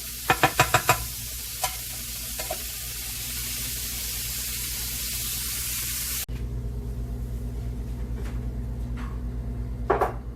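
Broccoli and meat cook down in a hot pan with a loud, hissing sizzle. A quick burst of utensil clacks comes at the start, the hiss softens partway through, and a few stirring knocks follow near the end, with no talking.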